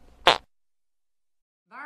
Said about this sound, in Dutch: Knijp je je billen stevig samen en laat je dan een scheet. Nou, dan kan die wel eens even flink gaan knallen.